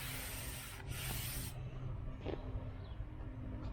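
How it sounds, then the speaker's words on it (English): Hand sanding on a 1985 Camaro IROC-Z fender during bodywork: a close, steady rasping rub with short stroke-like scrapes and quiet hiss, no talk. "let me do sanding on this fender"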